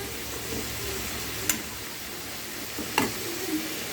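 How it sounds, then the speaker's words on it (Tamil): Paneer frying in a little oil and butter in a pan, giving a steady low sizzle with a couple of sharp utensil clinks, close by and with no voices. "ஒரு அரை ஸ்பூன் எண்ணெயும் பட்டரும் போட்டு அந்த பன்னீரை வறுத்து எடுத்துக்கலாம்"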